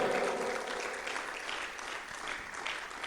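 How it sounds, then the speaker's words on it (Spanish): A church congregation applauds during a sermon, giving steady, moderately loud clapping that fills the room throughout with a slight swell near the end. "Pero denle un aplauso al Señor si lo desea."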